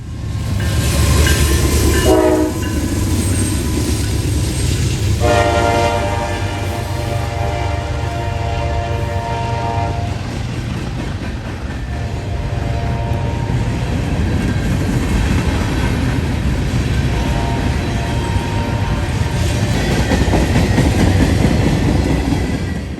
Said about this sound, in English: This was a nice train itself, as it had two -9 44 CWs, a CSX ES44 DC, and an NS ET44 AC